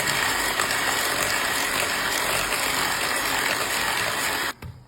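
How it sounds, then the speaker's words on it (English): A handheld electric mixer whirs steadily as it beats batter mixed with vegetable oil, a dense, constant buzzing drone that runs close and loud without pause before cutting off abruptly near the end. "you'll need your hand mixer. And we're going to beat this up."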